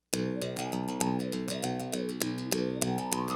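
A mouthbow, a simple stick strung with a single string, is plucked in a quick steady rhythm. Its twangy harmonic tone bends up and down as the mouth shapes the pitch. The sound is close and played alone.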